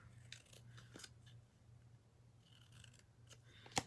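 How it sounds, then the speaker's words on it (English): Scissors snip at a holographic glitter car freshie in a few quiet, scattered cuts over a low steady hum, ending with one sharper close click. "So I just mark where I want to have my cuts, and then I just take my scissors."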